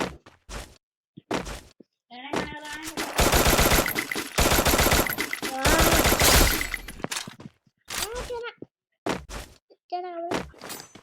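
Automatic gunfire from a video game bursts in a long, loud rattling stretch mid-clip, with shorter shots and a voice talking around it.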